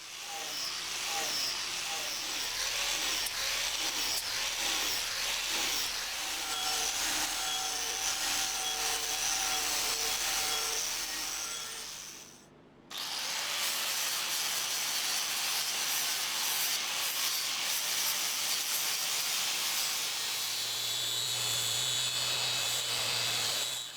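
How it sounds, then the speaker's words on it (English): Wood is carved by hand on the underside of a chair built from scrap wood, making a loud, steady rasping scrape that runs nearly unbroken, with one brief pause midway. "I just need to carve out the underneath for a foot so it sits better on the floor."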